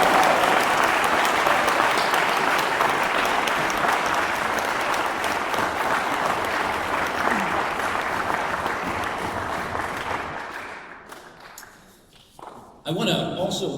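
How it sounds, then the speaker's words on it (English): An audience at a college address applauds loudly and steadily for about ten seconds, then the clapping thins out and fades into a few scattered claps. "So give them a great round of applause."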